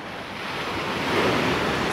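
Ocean waves rolling onto Waikiki Beach on Oahu, Hawaii, a steady, broad roar of surf mixed with wind noise on the microphone, building slightly louder toward the end with no voices.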